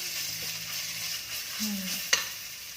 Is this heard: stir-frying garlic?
yes